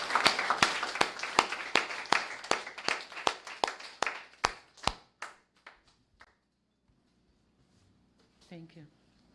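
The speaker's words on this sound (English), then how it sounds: "Ladies and gentlemen, let's give them a big round of applause." Applause for debate teams at a national Law Day debate: a string of sharp hand claps from a small audience, strong at first and then thinning to scattered claps that fade out, followed by a faint voice.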